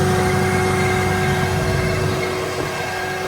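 A tractor engine runs steadily in a field, a loud continuous drone with a constant hum that holds throughout and eases off slightly toward the end.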